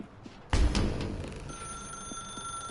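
A telephone rings in The Stanley Parable video game, with a loud, bright ring bursting in suddenly and then continuing as a steady sustained tone in a quiet room with no talking.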